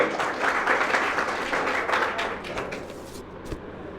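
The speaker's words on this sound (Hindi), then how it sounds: "जोरदार ताली अनिल कुमार के लिए।" Audience applause at a cultural and sports valedictory function, as a performer is called to the stage: dense, steady clapping from a crowd for about four seconds, tapering slightly at the end.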